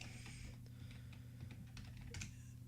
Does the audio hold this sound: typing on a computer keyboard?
yes